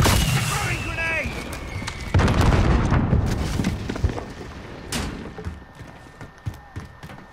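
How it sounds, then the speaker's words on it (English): A grenade goes off in a Call of Duty match on Rebirth Island, a deep boom followed by scattered gunfire and thuds, with players talking over the action. "Throwing grenade!"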